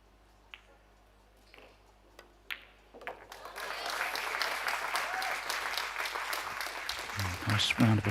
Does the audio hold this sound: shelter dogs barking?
no